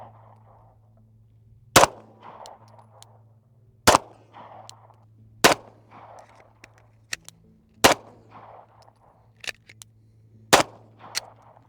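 Handgun shots at a target on an outdoor range, six sharp, loud reports spaced about two seconds apart, each followed by a brief echo, with no talking between them.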